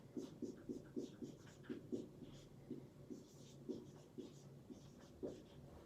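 Chalk taps and scratches on a classroom board in quick irregular strokes as a teacher writes, close and fairly quiet against a soft room hush.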